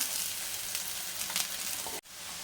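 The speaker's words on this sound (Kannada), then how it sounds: "ಇನ್ನೊಂದು ಸೈಡು ಒಂದೆರಡು ನಿಮಿಷ ಫ್ರೈ ಮಾಡ್ಕೊಳ್ಳೋಣ" Semolina-coated breadfruit slices frying on a tawa give a dense, bright, continuous sizzle, close and loud, that cuts off abruptly near the end before resuming.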